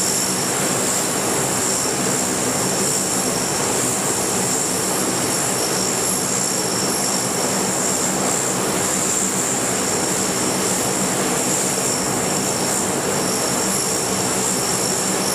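A C-130 propeller transport plane taxies with its engines roaring, a loud, steady, dense drone carrying a constant high whine, running unbroken without voices.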